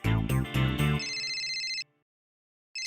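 Phone ringtone in a sitcom household scene, a bright electronic melody chiming loudly near the mic for under two seconds before cutting off, then a brief restart at the end.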